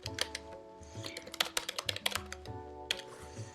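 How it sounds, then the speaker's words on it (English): Keystrokes on a computer keyboard tapping in irregular bursts of quick clicks, close and fairly clear over a low steady background hum, with no talking. "And then you just type your name"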